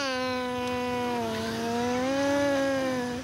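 A young boy in Raja Ampat imitates a car engine with his voice: a single sustained, slightly wavering buzzing hum lasting about three seconds, close and fairly loud.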